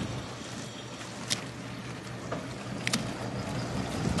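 A 1995 Luhrs 35 Convertible with twin 2004 Cat 3126 diesel engines gives off a steady, even rumble mixed with water wash, and no one speaks.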